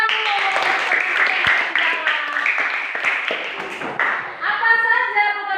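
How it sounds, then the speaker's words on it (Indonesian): A group of children claps in a quick, scattered burst of hand claps, with voices calling out alongside and over the clapping. "Tepuk tangan dulu."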